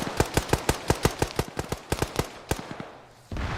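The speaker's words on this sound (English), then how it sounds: "Big machine gun fire from the compound." Sustained bursts of heavy machine gun fire in the Arma military game, firing from a compound, a rapid string of sharp cracks for about three seconds that thins out and then cuts to a louder rumbling wash.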